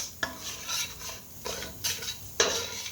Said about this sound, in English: I will heat the oil a little and turn the ogbono with it.